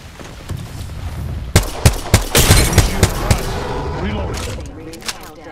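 Apex Legends gunfire, a handful of sharp, loud shots and short bursts in the middle with battle noise around them, and game voice lines heard alongside.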